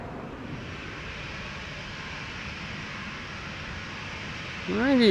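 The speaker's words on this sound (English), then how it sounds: "737 to Berlin, another 737-700, KLM flight 1777" A fifteen-year-old KLM Boeing 737-700 departs Amsterdam Schiphol bound for Berlin: a steady, broad jet roar holds level, then swells louder in the final second.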